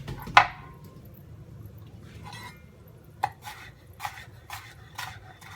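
Red and yellow peppers and red onion cut on a board, a loud knife thunk followed by several sparse, crisp chops spaced about half a second apart.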